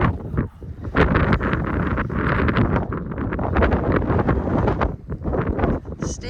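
Strong wind at a mountain cliff edge on the McAfee Knob and Tinker Cliffs hike: loud, continuous blustery roar buffeting the microphone throughout, with no speech.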